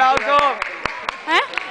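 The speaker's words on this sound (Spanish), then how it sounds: "Un aplauso." At a Pan-American taekwondo championship in Montevideo, about seven sharp claps sound in a quick, steady rhythm while excited voices talk and shout over them.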